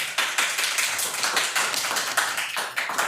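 An audience at a city council meeting claps, a dense, continuous patter of many hands from a crowd, loud and sustained for about three seconds with no talk over it.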